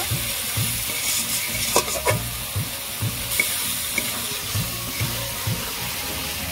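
Spices sauté in oil for a rohu fish curry with raw mango, a continuous sizzle under rhythmic, regular scraping strokes of a spoon stirring in the pan. It is close and has no speech.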